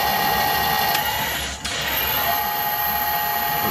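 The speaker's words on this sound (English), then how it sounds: "It's an imperial lathe, so I can't disengage the half nuts." An imperial metal lathe cuts a taper on a collet holder, giving a steady, close mechanical whir with a faint whine that dips briefly midway before resuming.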